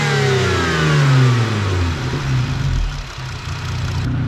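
Intake of a Jeep Gladiator V6 with aftermarket parts revving hard, a loud rising-and-falling engine roar with sweeping harmonics, settling back toward a rumbling idle near the end.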